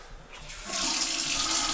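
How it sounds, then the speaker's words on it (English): Water from a bathroom tap is turned on while someone brushes their teeth: quiet at first, then a steady, close hiss of running water that holds to the end. "what I normally do is turn the water on"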